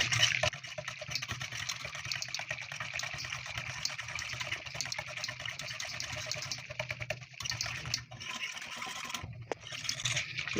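Cold water is poured into a pot for banana jelly, a continuous gushing, filling rush that runs steadily close by with a few brief breaks near the end.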